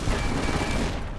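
A rocket launcher in Fallout New Vegas fires with a short, dense roaring blast that fills the whole moment, heavy and close.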